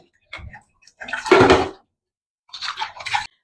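Dishes being washed at a kitchen sink during home cooking: two bursts of running water and scrubbing on a cooking pot, the middle one louder and fuller, separated by short pauses.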